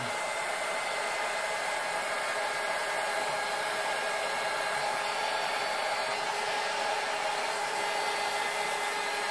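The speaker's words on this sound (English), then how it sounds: "this heat gun tends to get it too hot" A heat gun blows a steady, unbroken hiss of hot air at close range, holding the same level for the whole stretch with no voices over it.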